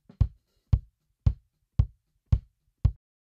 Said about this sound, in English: The kick sounds like this on its own.